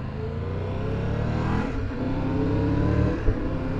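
Triumph Tiger 1200 Rally Pro motorcycle engine pulling hard in sport mode on the road, a steady loud droning note that builds gradually with wind roar, heard from the rider's position without talk.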